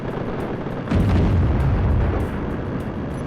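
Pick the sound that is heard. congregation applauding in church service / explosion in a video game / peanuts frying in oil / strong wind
explosion in a video game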